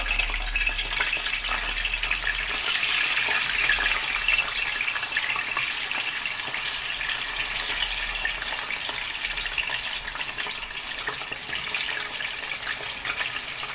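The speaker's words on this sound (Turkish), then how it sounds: "İlk önce patatesleri kızartmaya başlayacağız tavada." Steady crackling sizzle of sliced potatoes frying in hot oil in a pan, a continuous hiss that stays loud and close throughout.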